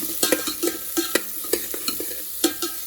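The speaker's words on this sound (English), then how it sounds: "While the mushroom is sauteing, I'm going to add garlic." Mushrooms sauté in a pan for homemade mushroom soup, a close sizzle punctuated by rhythmic spoon strokes and scrapes roughly every third of a second.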